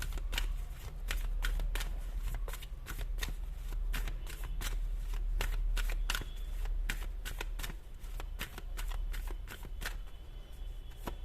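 Tarot cards are shuffled again and again in quick, crisp riffles and flicks close by, with a low hum underneath and no talking.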